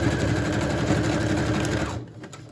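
A sewing machine runs in a fast, steady buzz of stitches while sewing fabric applique onto a journal page, close and clear, then stops abruptly near the end.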